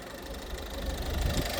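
A car engine idles evenly and steadily up close, a low continuous rumble with a faint rhythmic knock and no talking.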